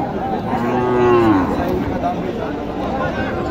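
A dairy cow at a rural cattle market gives one drawn-out moo that bends in pitch, heard up close amid the murmur of people talking and market bustle.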